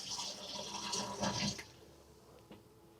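Liquid poured into a toilet in a home with plumbing problems: a loud gushing splash for about a second and a half, then quieter trickling and a single brief splash.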